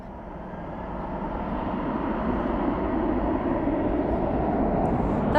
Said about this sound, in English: That's the 777 flight 459 coming in from Chicago O'Hare.